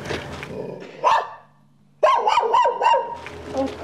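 Several dogs barking close by in sharp bursts, a short pause, then a rapid cluster of barks followed by more barking.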